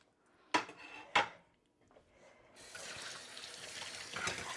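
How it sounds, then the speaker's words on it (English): Tap water runs into a kitchen sink as hands are rinsed while cooking Swedish meatballs, a steady broadband splash lasting a couple of seconds after two sharp clinks of dishes or utensils. "I'm just going to rinse my hands again."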